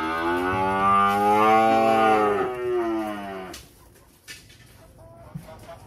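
Cattle low loudly at a cattle farm in La Hai, Vietnam, with one long, rich, close moo bending in pitch and fading into a quiet yard with a few faint knocks.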